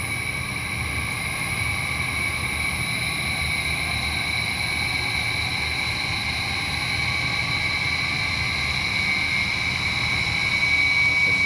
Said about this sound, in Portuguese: Tá vendo que o nosso motor já ligou, está em 30 Hz.